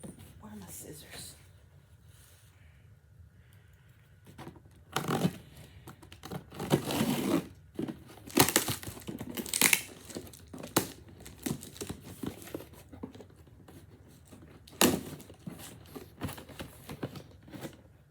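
Cardboard case being cut and opened with scissors, producing loud crinkling, tearing and rustling bursts of packaging, mixed with someone speaking.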